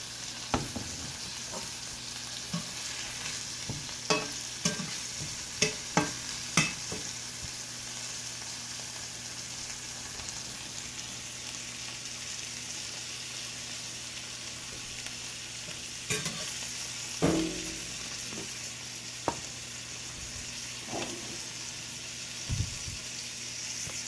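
Vegetables for a puffy omelet sizzle steadily in a hot pan, a continuous close frying hiss with occasional soft clicks and stirring scrapes, no talking.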